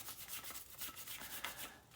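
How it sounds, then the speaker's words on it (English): A wire brush scrubs rust off brake parts with steady, rapid back-and-forth rasping strokes, close but faint. "you get yourself a wire brush, right, and you clean that rust off"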